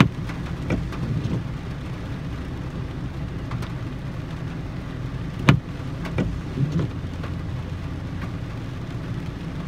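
Light night drizzle falls steadily in São José da Tapera, a continuous soft patter with scattered crackles and one sharper burst partway through. No distinct thunder roll stands out over the rain.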